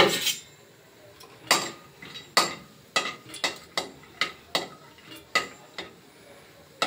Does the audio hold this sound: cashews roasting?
yes